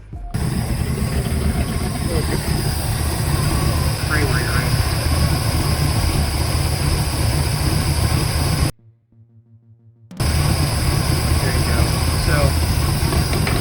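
Small aircraft engine running at low idle, a steady loud drone with mechanical clatter that cuts out briefly near the end before resuming, while someone talks over it.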